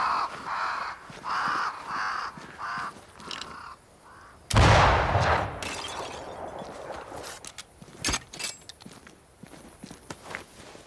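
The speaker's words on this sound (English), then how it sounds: "there's a lot of crows over here" In the game Banishers: Ghosts of New Eden, crows caw in a quick run of harsh calls, then a sudden loud burst of flapping and rustling as the flock takes off, followed by scattered thumps and fading movement.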